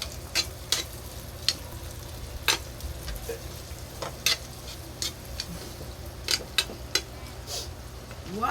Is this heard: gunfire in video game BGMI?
no